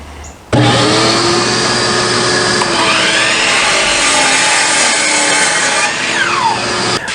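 A power saw rips steadily through a wooden board for a twenty-foot deck ramp, a loud continuous whining drone with a rising, shifting pitch that runs unbroken for several seconds close at hand.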